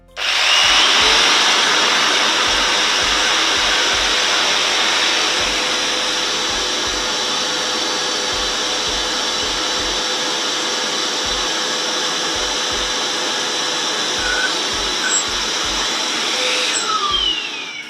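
An iMAX 1600 W auto-switch vacuum cleaner runs with a loud, steady whine and rush of air that holds unbroken for the whole stretch, heard up close with no talking.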